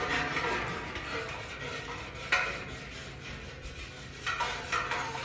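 A spoon scrapes a blueberry wine mixture out of a container in repeated soft rubbing strokes, with a few sharper clinks against the container, close and fairly quiet.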